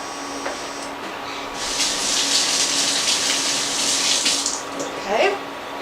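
Tap water runs into a kitchen sink during a hand wash, a soft steady hiss that swells for a few seconds and then tapers off, with faint handling noises around it.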